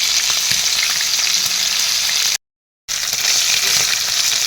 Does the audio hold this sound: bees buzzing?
no